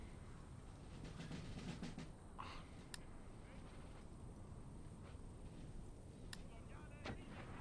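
Distant artillery booms from Empire: Total War with the Imperial Destroyer mod, Prussian campaign: a few sharp, faint cracks over a low, continuous battlefield rumble.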